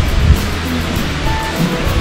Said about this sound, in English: As you can hear, there's some water flowing in the background.